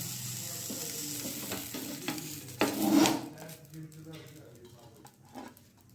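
Sponge dosa batter cooks on an oiled pan with a lid: a soft steady sizzle and scraping, a metallic lid knock, then a quieter muted simmer, heard close with a voice speaking.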